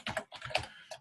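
Rapid bursts of keystrokes on a computer keyboard, close and clear, typing out a web address in a few quick clusters separated by short pauses, with no talking.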